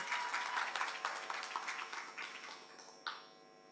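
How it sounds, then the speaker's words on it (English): An audience at a university social work month event applauds to welcome a group, a quiet burst of dense clapping that thins out and fades. "Make them welcome, please. Round of applause."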